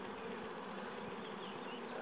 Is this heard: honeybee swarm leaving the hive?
yes